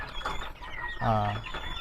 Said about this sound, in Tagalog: nagbibigay na ulit ako ng pagkain sa aking mga alagang manok